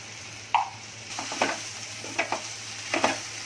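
Dry spices with turmeric and asafoetida hiss and crackle in a hot pan while a spoon scrapes and stirs them in several short strokes.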